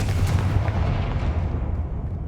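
A Confringo fire spell bursts in the Hogwarts Legacy video game with a heavy booming blast, its deep rumble rolling on loudly for a couple of seconds as it fades.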